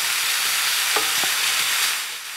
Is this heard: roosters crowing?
no